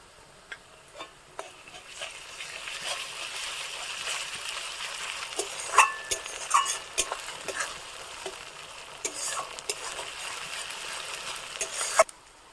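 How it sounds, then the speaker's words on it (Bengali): Ground ginger-garlic paste fries with browned onions in a pan for Kashmiri chicken curry, a soft steady sizzle broken by scattered clicks and scrapes of stirring, fairly quiet and close. "পেঁয়াজটা লাল লাল করে ভাজা হয়ে গেছে, এবার আমি বেটে রাখা আদা রসুনটা দিয়ে দিচ্ছি।"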